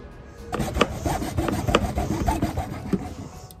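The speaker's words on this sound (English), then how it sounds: "So now I'm gonna cut my PVC pipe into 10 inch pieces." PVC pipe being cut into 10-inch pieces with a hand saw, a close, steady run of rasping back-and-forth strokes heard on its own with no talk.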